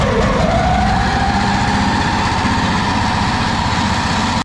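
A homemade jet unit engine with a chain drive and newly mounted exhaust pipe runs loud and close, holding a steady droning roar with a rising whine and a dense rattling pulse throughout.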